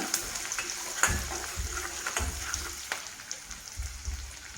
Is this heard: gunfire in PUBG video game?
no